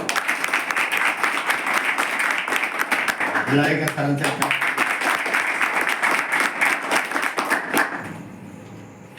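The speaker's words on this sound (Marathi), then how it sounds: "टाळ्या वाजवा." Sustained applause from a large audience at a student event, thick and even, with a voice speaking briefly over it midway before the clapping drops off sharply near the end.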